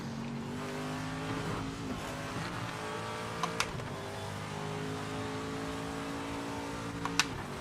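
Race car engine in Project Motor Racing revving steadily near, with pitch climbing and dropping through gear changes and a couple of sharp blips from downshifts, alone without talk.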